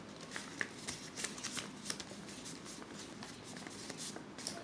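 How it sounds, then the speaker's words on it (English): Sheets of paper being folded by hand into a paper boat, with soft crinkles and light creasing rustles repeating steadily and close by, moderately quiet throughout. "Fold the other side up. So I'm going to fold mine."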